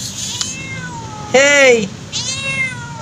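A wary stray cat living under a container van meows loudly and plaintively at close range, one long rising and falling call with shorter cries on either side, and a person briefly calls out.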